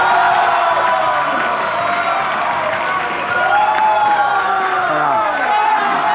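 A live audience claps, cheers and whoops loudly to welcome host Liu Gang onstage at a Chinese comedy show, a dense continuous roar with shouting voices mixed in.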